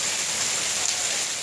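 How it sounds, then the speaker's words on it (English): Hail comes down hard outdoors, a dense, even hiss of countless small impacts on surfaces that holds steady throughout, with one faint brief knock near the middle. "Look at all that hail."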